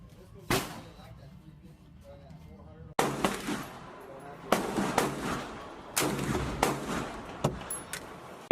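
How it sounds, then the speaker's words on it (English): Pistol rounds fired at a target 50 yards out while testing a red dot optic, with several sharp, loud shots spaced irregularly, some closely paired, each followed by a brief echoing tail over outdoor background noise. "I fired one more round at that target"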